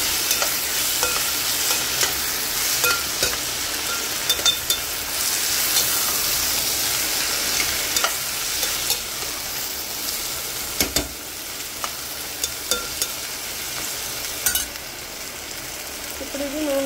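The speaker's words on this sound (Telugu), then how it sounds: "అన్నీ వేసుకుని చక్కగా నీట్గా కలుపుకోవాలండి" Chopped vegetables are stirred in hot oil in a pan for quinoa dal upma, a continuous close sizzle punctuated by irregular scraping clicks of the spatula against the pan.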